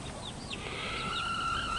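Hens in a separate pen cluck and call softly together, a close, continuous chorus of fowl murmurs with no talk.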